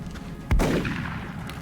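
A single loud gunshot from the video game XCOM hits hard, with a deep boom and a short, rumbling decay that fades away. No voices are heard.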